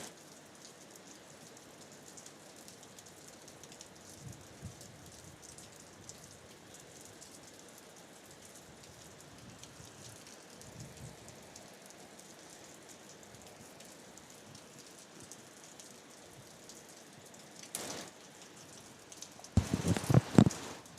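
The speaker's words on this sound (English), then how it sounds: "The rain's sort of eased off a little bit," Rain teeming down outdoors at a shore-break surf contest, a steady, soft, even hiss in the background, with a louder burst of splashing or rustling near the end.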